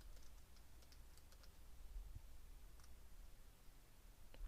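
Quiet, scattered keystrokes on a computer keyboard while entering a git command, a few soft clicks spaced irregularly over faint room hiss with no voice.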